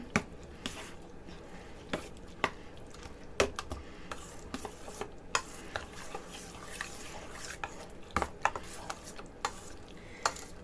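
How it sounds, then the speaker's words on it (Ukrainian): Minced garlic being stirred into a mixture in a bowl, giving a series of soft scraping strokes with sharp clicks of the utensil against the side, close and fairly quiet with no talking. "Все це розмішуємо добре"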